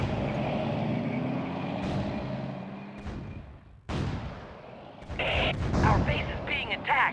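Artillery and gunfire hit a base in the PS2 strategy game Conflict Zone, with rumbling engine-like noise, a heavy impact boom partway through, then a loud burst of rapid crackling shots near the end, while a voice speaks over it.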